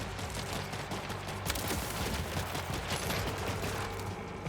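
Robot turrets, some armed with rockets, firing in the shooter game Borderlands 4: a dense, continuous barrage of rapid gunfire and blasts, loud and steady throughout with no talk.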